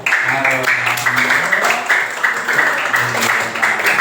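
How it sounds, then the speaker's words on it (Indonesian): Students in a classroom clap together after a group presentation, a brisk burst of close applause that rises and falls in waves, with voices mixed in underneath. "Tepuk tangan."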